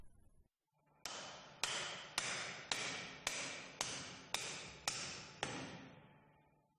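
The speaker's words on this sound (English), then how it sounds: "Using a plastic hammer, hammer on the swash plate." A plastic hammer strikes a hydraulic pump's swash plate eight times in a steady rhythm about half a second apart. Each close, sharp knock carries a short metallic ring that fades before the next blow.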